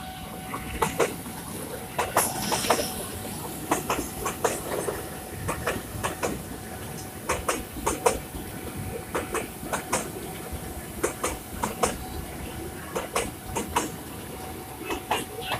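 Jakarta Commuter Line train running past a rail level crossing, a faint steady rumble with rhythmic clacking of wheels over the track, heard from nearby at low volume.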